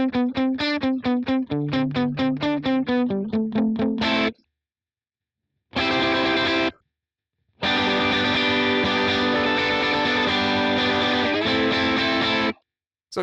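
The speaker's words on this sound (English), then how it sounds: "you'll hear that glorious 2290 rhythmic delay effect" An electric guitar runs through a 2290-style rhythmic reverse ducking delay with distortion, playing fast repeated staccato notes, then long swelling sustained chords separated by abrupt silent gaps, loud and alone.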